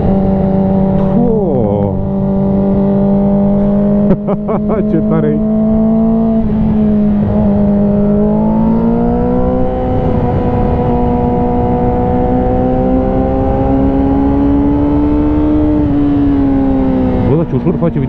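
A 2006 Yamaha R6 motorcycle's engine pulls hard past 6000 rpm, a loud, close, rising engine note that climbs steadily through the gears with brief shift dips, while a rider talks briefly over it.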